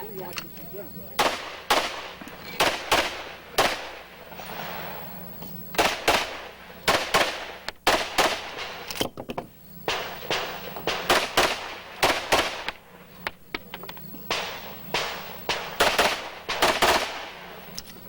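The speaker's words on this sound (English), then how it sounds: "Did his gun go full auto, or is he just real fast with that trigger?" Rapid pistol shots crack out in quick bursts at a 1990 USPSA national championship match, loud sharp reports in clustered strings with brief pauses between them, no talk over the firing.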